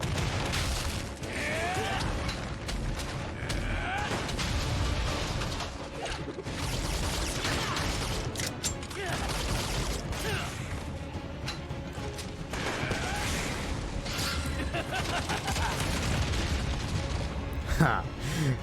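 Rapid shotgun blasts from a gunner class in the Lost Ark video game, a dense, steady barrage of bursts and mechanical clatter with game effects, alongside talk.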